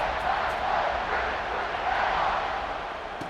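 Home stadium crowd in a college football video game, Ohio State against TTUN, a dense continuous roar of cheering that swells and holds without pause.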